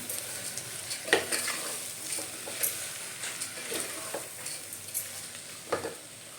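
Soya chunk pulao with salt just added being stirred in a pan, a steady soft sizzle broken by scraping spoon strokes and small clinks at an irregular pace, close and fairly quiet with no talking.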